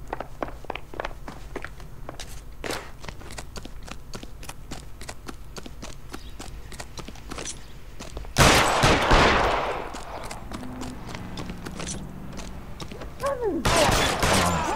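Gunfire in the video game L.A. Noire: a burst of loud shots around the middle, then another sharp volley near the end, over a quieter bed of footsteps and small clatter.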